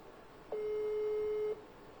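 A single steady telephone tone sounds for about one second in a quiet room before a call connects, clear and close, with nothing else around it.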